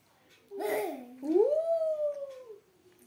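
A voice imitates a jackal howl, giving a short cry and then a longer drawn-out, wavering howl that fades at the end.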